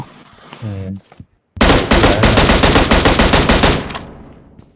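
Rapid automatic gunfire rattles out in a video game, one long loud burst of evenly spaced shots after a brief electronic tone and a short pause.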